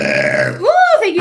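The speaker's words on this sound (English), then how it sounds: "Spirit makes me burp, for those of you who don't know." A single loud, close burp rolls out with a rising then falling tone, following a brief voiced sound, during a live psychic reading stream.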